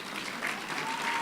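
Audience applause at a gala awards dinner, a short steady wash of clapping from a room full of guests, moderately loud and unbroken, with a faint tone in the background.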